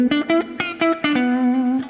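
An electric guitar on the neck pickup runs through a Fender Vibroverb amp with a little reverb, delay and compression, playing a quick blues figure of plucked notes that ends on a sustained, ringing note.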